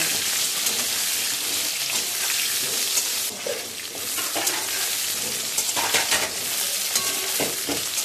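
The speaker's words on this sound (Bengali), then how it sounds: "আলুগুলো আমি এপিট ওপিট করে বেশ লাল করে ভেজে নেব" Loud, dense sizzling of potatoes frying in hot oil fills the whole clip, with brief stirring scrapes breaking through.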